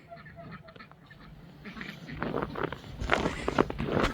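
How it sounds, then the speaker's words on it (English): Ducks near a porch duck ramp, quiet at first and then a busy patch of soft quacks, shuffling footsteps and pecking sounds close by, growing louder toward the end. "Excuse me, ducks, can you move on?"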